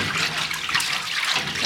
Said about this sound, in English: Dishes had to be washed in 2 big pots of steaming hot water on the wood-burning stove